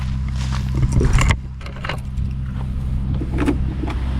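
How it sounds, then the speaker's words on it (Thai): A motorcycle engine runs steadily as it is ridden, a low droning hum with a brief louder rattling surge early on, then settling into an even rumble. "ตอนนี้เดี๋ยว ขับมอเตอร์ไซค์ก่อนนะทุกคน"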